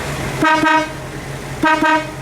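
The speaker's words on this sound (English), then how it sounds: "Let's beep that horn for a second." A 1956 Chrysler New Yorker St Regis horn beeps in two quick double honks, loud and close, separated by about a second of engine idle.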